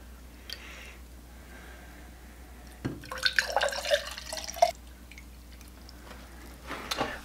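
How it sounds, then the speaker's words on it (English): Distilled water splashes into PEM hydrogen bottles in a short close pour lasting under two seconds, with scattered drips and light clinks before and after. "I'm going to go ahead and fill both of these bottles with some water."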